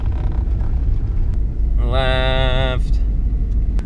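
A Subaru car rumbles steadily at low speed in first gear while turning at full steering lock, and a whining tone from the steering rises and holds briefly midway before fading back under the engine.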